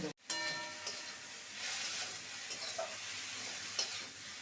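Cauliflower stems frying with salt and turmeric for a vegetarian chorchori: a continuous soft sizzle with light stirring, fairly quiet and even throughout.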